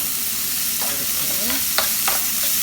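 Shrimp stir-frying in a pan, heard as a loud, steady sizzle with a few spatula scrapes and taps breaking through as the pieces are tossed.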